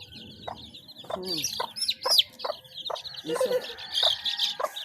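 Hens cluck and chicks chirp close by in a busy, uneven chorus of short calls and peeps, with a brief spoken word partway through.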